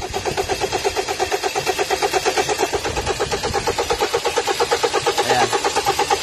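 A Hyundai Tucson engine with a leaking number 2 injector and a P2188 fault code starts and settles into a fast, even idle. The rhythmic pulsing stays loud and close throughout.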